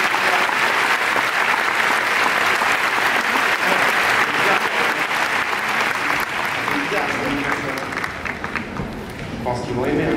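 A crowd applauding steadily at the Lumière 2022 festival opening night, dense clapping throughout that thins slightly toward the end, with faint voices mixed in.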